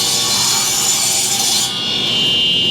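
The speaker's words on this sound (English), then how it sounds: "And this saw is a little noisy, so sorry about that." A noisy saw cuts wooden stiles for a Shaker-style bathroom vanity, giving a steady, loud, close rasping whine that drops in pitch partway through as the cut finishes, alone without speech.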